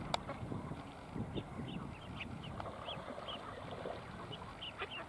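Mallard ducks quack faintly in short, scattered calls over a low, murky outdoor background near a muskrat on the water.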